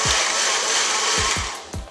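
A Tower VitaBlend blender runs steadily, whirring ice, espresso, milk and chocolate sauce into a frappe, a close, loud and even motor drone with a few low knocks as the ice tumbles.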